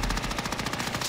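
Rapid automatic gunfire in Call of Duty: Modern Warfare, a quick, even string of shots heard close and loud.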